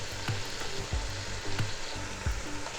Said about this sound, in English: I'm going to nicely saute the lamb pieces and add some ginger and garlic paste.